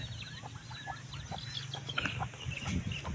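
A flock of turkeys calls over each other nearby, with repeated gobbling and clucking bursts and a low steady hum underneath.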